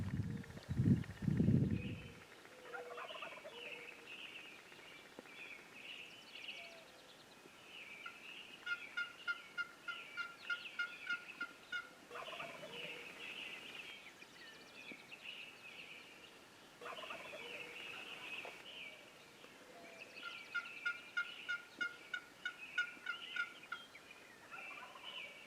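Wild turkeys gobble repeatedly in the distance during a spring gobbler hunt, rolling gobbles answering each other at intervals across a quiet outdoor morning, with a brief low thump at the start and no talk.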